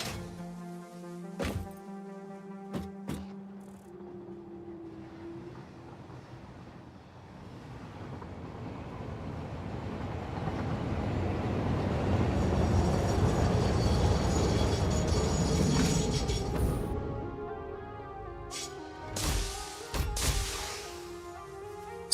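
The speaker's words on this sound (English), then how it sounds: "Might as well wait for the train. It's going to be here soon." A train in the factory-building game Satisfactory slowly approaches and arrives, a gradually swelling rumble that peaks in the middle, framed by scattered metallic clanks and thunks near the start and end, with no talking.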